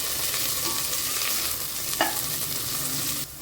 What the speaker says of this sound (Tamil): புதினா மல்லி, பச்சை மிளகா இதையும் சேர்த்து வெங்காயத்துக்குறைய வதக்கிடுவோம்.